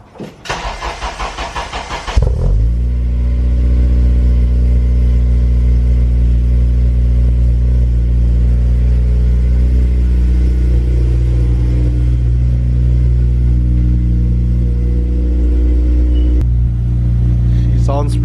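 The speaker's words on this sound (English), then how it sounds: "Sounds pretty good on startup." A car engine cranks and catches, then settles into a loud, steady rumbling idle with slight revs, close by; brief talk before the start.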